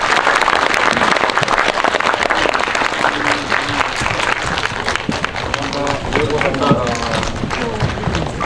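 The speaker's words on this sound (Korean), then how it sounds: "오늘 함께 해주신 많은 분들께 큰 박수 드리면서 마무리하겠습니다" An audience applauds at the close of a film talk event for Harbin, a dense, steady wash of clapping throughout, with voices mixed into the crowd noise.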